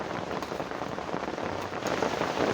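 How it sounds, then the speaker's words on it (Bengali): Heavy rain pouring down: dense, steady hiss of drops drumming on surfaces, loud and continuous without a break, no voices. "বৃষ্টিটা আরও জোরে জোরে হচ্ছে"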